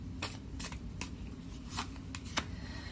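Tarot cards are shuffled and drawn, giving a series of soft, quick riffling flicks and snaps at an uneven pace, fairly quiet, over a low steady background murmur.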